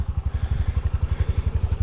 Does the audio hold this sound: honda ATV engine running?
yes